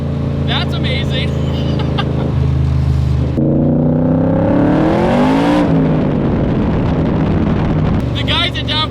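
A 760-horsepower Shelby Cobra with a swapped-in 2020 GT500 engine roars loudly and steadily under acceleration, its pitch climbing through the gears with a brief shift lull, plus wind buffeting throughout.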